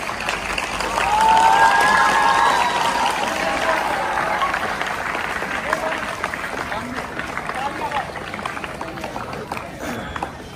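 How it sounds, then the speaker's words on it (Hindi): An audience at a Bharat Vikas Parishad gathering claps loudly to welcome a guest, a dense sustained round of applause with a brief whistle-like tone early on, gradually thinning while voices carry beneath it. "बेटा जोरदार तालियों के साथ स्वागत कर दीजिए।"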